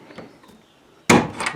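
A screwdriver knocks out a plastic insert inside an electrical box during installation of a standard 120 volt receptacle, giving one sharp close knock after a quiet pause.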